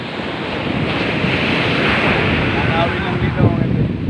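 Sea waves wash onto Gumaus Beach in a broad, continuous surf roar, with wind buffeting the microphone and a slight swell near the end.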